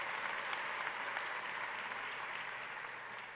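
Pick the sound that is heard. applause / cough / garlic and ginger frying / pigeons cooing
applause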